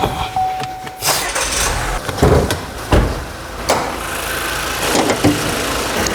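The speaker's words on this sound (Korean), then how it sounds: "시동을 걸고 엔진룸을 한번 살펴보시겠습니다" A used midsize car's 1.5-litre turbo engine turns over and catches, then settles into a steady idle, with a couple of sharp clunks like a door or hood close by.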